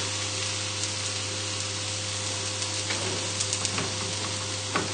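Milk being stirred into creamed leeks in a hot pan gives a steady, close sizzling hiss with faint scrapes and clinks, under a constant low hum.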